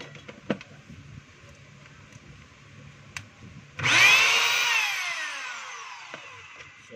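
A DeWalt D25144 rotary hammer test-run after repair: after a few small clicks and knocks, the motor bursts into a loud whirring spin around the midpoint, then winds down with falling pitch, close by and with no talking.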